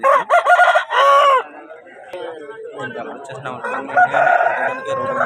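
A nearby rooster crows loudly twice in quick succession, then a person talks over softer clucking and another crow.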